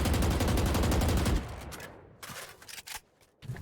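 Rapid gunfire empties a full magazine in Valorant during Reyna's ultimate: a loud, dense burst of shots for over a second, then sparser, quieter clicks and game sounds.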